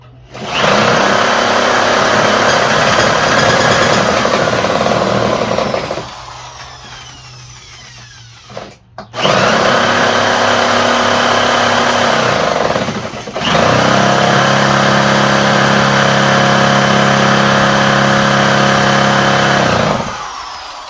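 A Craftsman small engine with the choke on cranks loudly and steadily but fails to start, in two long runs of rapid mechanical churning separated by a short pause.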